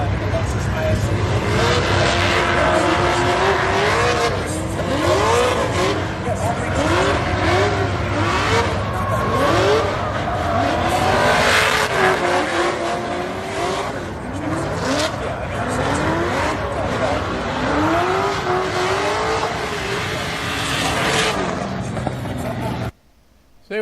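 A Lexus IS race car makes a drag run at LS Fest East, its loud engine rising through repeated revving sweeps with tire noise, while people talk nearby, before cutting off abruptly at the end.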